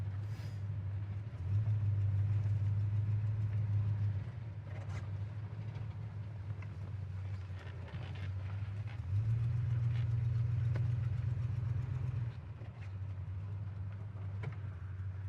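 A 1970 Oldsmobile Cutlass Supreme's engine drones steadily while driving, a low, even hum heard from inside the car that swells louder in two stretches as it pulls harder, then settles back to a smooth cruise.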